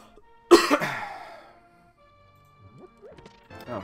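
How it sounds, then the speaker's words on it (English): A single sharp cough from a man recovering from a cold, loud and abrupt near the mic, trailing off into quiet, with faint electronic tones from a Zelda randomizer game afterward. "Still got some coughs, but it's not near as bad as it was."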